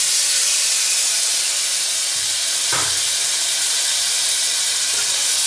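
A large tomato added to onions sautéing for a Tamil potato kurma: a loud, steady sizzling hiss throughout, with a soft thud and a brief surge as the tomato drops into the pan.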